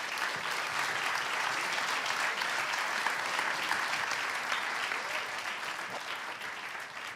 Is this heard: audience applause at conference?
yes